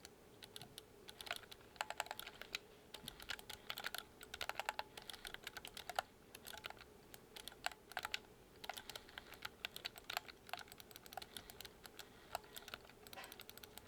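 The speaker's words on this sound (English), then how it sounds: "All of your buttons, your actual buttons, your physical buttons, including the D-pad, have a more mechanical feel" Rapid, light plastic clicks from a GameSir G7 Pro controller's mechanical-feel buttons and D-pad tap out in quick irregular bursts, close and fairly quiet.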